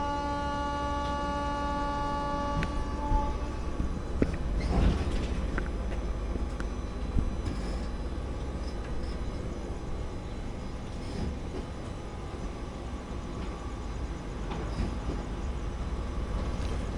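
A train pulls out on the main line at Kollam station, a steady loud rumble and hum of the moving train with a high whine and occasional clunks running throughout, no voices.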